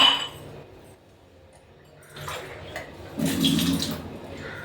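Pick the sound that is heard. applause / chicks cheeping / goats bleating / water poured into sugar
water poured into sugar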